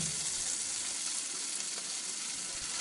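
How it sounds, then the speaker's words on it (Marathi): Chopped onion and tomato frying together in a pan for a butter chicken base give off a steady, close, loud sizzle that holds evenly throughout with no talking. "हे सर्व चांगले भाजून घ्यायचे"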